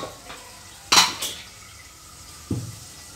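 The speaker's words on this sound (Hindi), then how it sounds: "मैं इतने कुकर खोल लेती हूँ।" Pressure cookers being opened in a home kitchen after cooking chickpeas: a sharp metallic clatter with a short hiss, then a single duller clunk a moment later, close by with no talk.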